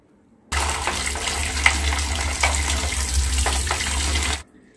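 Detergent tray from a 6.5 kg front-load washing machine being rinsed under a running tap, giving a steady, full splashing rush of water for about four seconds that starts and stops abruptly.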